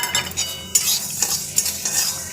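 Coriander seeds and urad dal being stirred in a dry pan, a close, busy rattle and scrape of seeds against metal with a few sharp spoon knocks over about two seconds.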